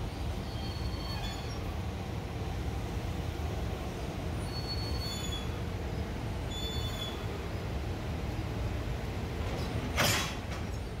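EF210 electric locomotive easing slowly toward stationary freight wagons at night at Soga Station, a low steady rumble with faint wheel squeals and a brief hiss near the end.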